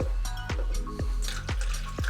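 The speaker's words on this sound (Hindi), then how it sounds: "अब हम इस बर्तन में लेंगे सबसे पहले नाप कर 200 मिलीलीटर वाटर" Rainwater is poured from a vessel into a measuring cup, giving a close, steady liquid trickle with regular gurgling blips about twice a second, and no speech.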